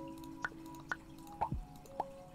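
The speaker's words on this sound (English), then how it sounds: "So we just pop bubbles." Bubbles pop in the Bubble Pop video game as a string of soft, watery plop and drip sounds, four or five evenly spaced and fairly faint, one sliding down in pitch, with no talking.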